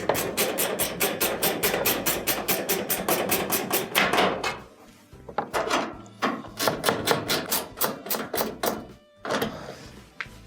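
Ratchet rapidly clicking as it tightens screws on a dryer panel, long loud runs of even ticks broken by short pauses, close up with no talking.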